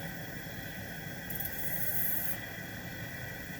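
A gas burner flame roars with a steady hiss beneath a pressure canner on a home stove, holding constant throughout with a brief brighter high-pitched rush partway through.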